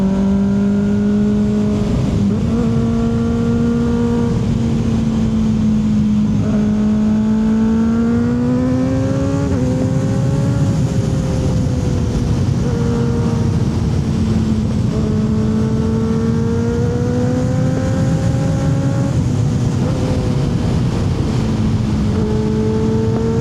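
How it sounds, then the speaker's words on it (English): Kawasaki ZX6R Ninja 636 motorcycle engine revving hard on a ride through trees, a loud continuous high-pitched drone that rises and drops with each gear change, with heavy wind rumble throughout. "There is nothing like this ZX6R blasting through the trees though."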